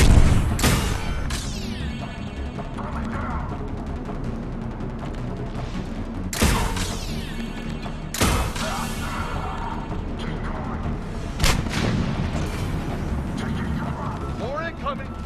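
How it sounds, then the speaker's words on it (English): Gunfire and explosions in the Mass Effect 3 video game: sharp blasts punctuate a continuous battle din of shots and mechanical noise, with voices talking over the fighting. "He's taking fire! Protect him!"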